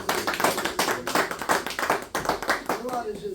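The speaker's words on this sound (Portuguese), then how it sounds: "com palmas bem alegres e bem fortes para Jesus Cristo" Church congregation clapping in quick, irregular bursts at a Brazilian evangelical service, lively and close, with voices speaking and singing over it.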